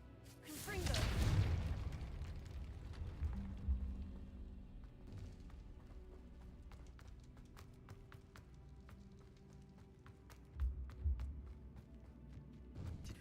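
A Confringo blasting spell in a Harry Potter video game bursts with a loud booming whoosh, and a long rumbling, crackling tail fades under game music. A second, smaller blast comes near the end.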